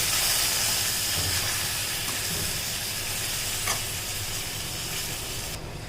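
Quail pieces and onions sautéing in a pan for a quail gravy, giving a steady close sizzle and hiss with faint stirring scrapes throughout, no talking.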